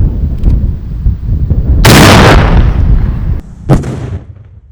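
A loud, sharp anti-tank grenade launcher blast erupts and rumbles on, followed moments later by a second short booming report, all outdoors with heavy low-end roar.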